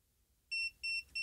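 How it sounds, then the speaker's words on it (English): A universal remote emits three short, clear electronic beeps in quick succession while being programmed to a smart TV, close and distinct against a near-silent room. "We got our beeps."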